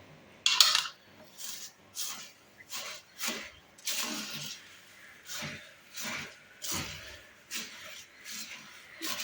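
Flattened rice (aval) stirred in a pan, a regular run of dry scraping, rustling strokes about once a second, close and fairly soft, with no voices.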